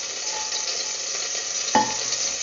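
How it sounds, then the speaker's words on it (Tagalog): Garlic sizzles in hot oil as it is stirred for a Filipino lamb caldereta. A steady, close frying hiss runs throughout, and a spoon scrapes the pan once near the end. "Now the oil is hot, saute the garlic."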